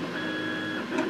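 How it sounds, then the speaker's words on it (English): A 3D printer runs steadily nearby while a scale-model Enterprise refit is being built, giving a continuous whirring mechanical hum with a sustained motor tone and no talking over it. "sorry about the noise, 3D printer."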